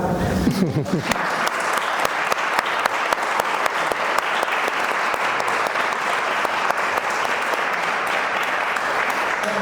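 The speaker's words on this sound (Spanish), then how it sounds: "Por favor, un aplauso." An audience breaks into sustained applause, many hands clapping steadily and loudly after a brief voice at the start.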